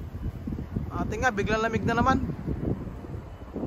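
Cold winter wind buffets the microphone outdoors, a steady low rumbling gust that runs beneath a person speaking.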